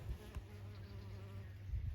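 Bees buzz steadily among Californian poppies, agastaches and salvias in a garden, a low continuous drone close to the microphone with slight swells, and no voices.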